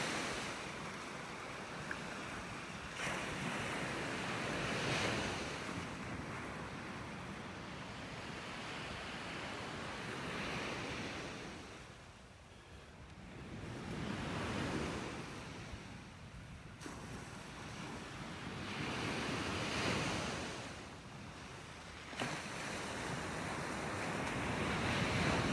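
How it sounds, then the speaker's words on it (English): Ocean surf on a beach in North Naples, Florida: repeated waves swell into long hissing washes and fade, rising and falling over several cycles, with heavy wind buffeting the microphone throughout. "it looks like those waves are calming down just a little bit."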